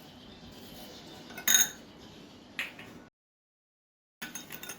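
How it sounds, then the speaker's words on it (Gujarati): A spoon stirs sugar into a cup of water, giving a few sharp metallic clinks against the vessel over a quiet background, then a brief silence before more light clinking. "ખાંડને સરસ મિક્સ કરી લેવાની આ રીતે, એટલે ખાંડ તમારી ઓગળી જાય।"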